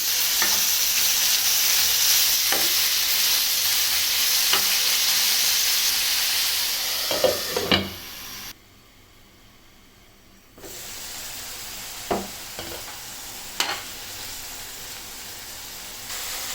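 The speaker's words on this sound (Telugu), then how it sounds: "బీరకాయ ఇలా ఫ్రై అయిన తర్వాత టమాటో పీస్ తీసుకొని ఫ్రై చేసుకుందాం" Ridge gourd and tomato pieces fry in a pan with a steady, close sizzle and hiss, broken by sharp clinks of a stirring spoon and a sudden two-second dropout midway.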